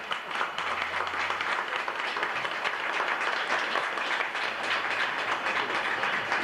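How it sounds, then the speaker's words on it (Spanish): Steady, dense audience applause fills a cultural centre event hall, many hands clapping evenly and loudly from start to finish with no pauses. "Y les pido un aplauso."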